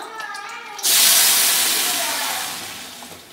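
Steam hisses loudly and continuously from a pot while shrimp broth cooks, rising abruptly and then slowly fading.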